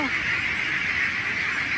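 A flock of local-breed ducklings about 34 to 35 days old at a duck farm in Kathmandu, calling together in a dense, continuous, fairly loud chorus of overlapping calls.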